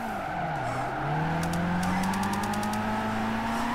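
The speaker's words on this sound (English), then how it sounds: "it almost can start drifting in third now" A 300-horsepower Shuichi Shigeno AE86 drifting in Gran Turismo 5, with a steady engine drone rising in pitch alongside a sustained tire squeal, loud and continuous with no talk.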